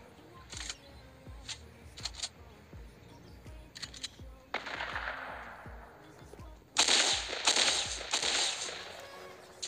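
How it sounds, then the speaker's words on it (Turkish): Pump shotgun blasts and other gunfire in Fortnite Mobile ring out as a series of sharp, moderately loud cracks, spaced irregularly across the clip, with bursts of clattering effects toward the end. "Adam uzaktan iyi pompalıyor, sıkıyor bu adamı"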